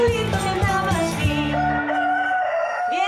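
A performer imitates a rooster crowing at a children's concert, a loud, sustained, wavering call over a dense musical backing that drops away partway through.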